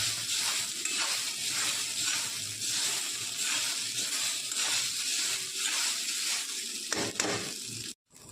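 Steady, dense sizzling of onions, green chillies and coriander leaves frying in hot oil, with occasional stirring scrapes, continuous and close throughout.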